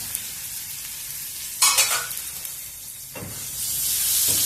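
Onions frying in a pan for taro root curry, a continuous soft sizzle broken by a few sharp scraping stirs of a spoon against the pan, the hiss swelling louder near the end.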